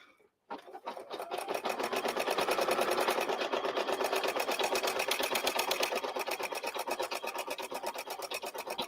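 An embroidery machine stitches fruit detail on an in-the-hoop fall project, a steady, close, rapid mechanical chatter of needle strokes running continuously for several seconds after a brief quiet start.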